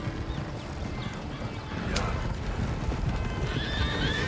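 A horse's hooves clip-clop in Red Dead Redemption 2, a soft steady plodding under ambient game noise, with faint higher chirps late on and no clear speech over it.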